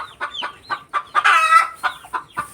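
Hens clucking around a brooding hen in a backyard poultry pen, a close, loud series of rhythmic clucks with a longer squawking call in the middle.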